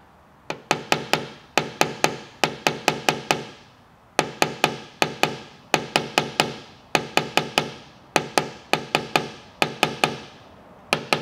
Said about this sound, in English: I'm gonna take a blending hammer. I'm just gonna tap down a little bit,